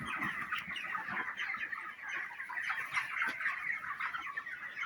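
Thirty-day-old broiler chickens fill a poultry shed with dense, continuous clucking and chattering, a steady flock murmur with scattered sharper calls and no talking.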